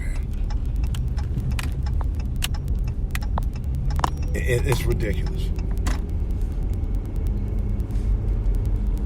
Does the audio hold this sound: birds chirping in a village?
no